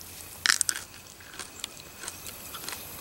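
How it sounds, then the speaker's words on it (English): A small, fresh garden cucumber bitten into up close, giving one sharp crisp crunch followed by a few softer crunching chews that fade over about three seconds. "You hear that crunch?"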